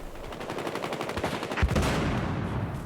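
Rapid gunfire crackles through a multiplayer match of Battlefield Hardline, with dense repeated shots that swell into a sharper, louder burst partway through and then continue as a heavy, sustained barrage.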